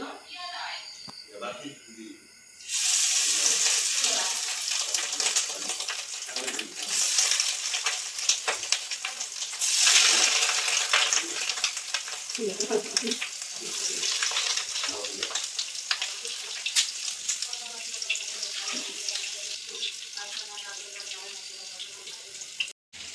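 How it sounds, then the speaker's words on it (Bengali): Fish roe fritters sizzle steadily in hot oil in a kadai, a loud, continuous frying hiss that starts after a short quiet opening and carries on with small pops and scrapes throughout. "তেলটা গরম হয়ে গেছে। এখন আমি মাছের ডিমের বড়া করব।"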